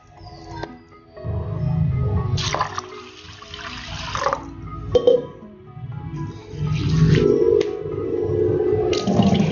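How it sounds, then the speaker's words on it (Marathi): Rice and mixed lentils being washed in a bowl of water in a home kitchen, with swishing, sloshing and pouring water in uneven bursts, close and fairly loud. "1 वाटी तांदूळ आणि 1 वाटी मिक्स डाळी ह्या आपण आता एकत्र करून याला 2 वेळेस स्वच्छ धुवून घेऊया"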